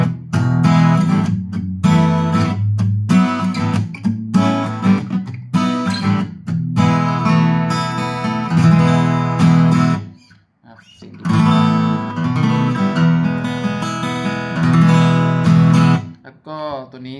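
Chords strummed on a Recording King RD-17 dreadnought acoustic guitar with a solid top, bone nut and saddle, and fresh 11-gauge strings, played loud and up close in steady full-bodied bursts with one short pause midway.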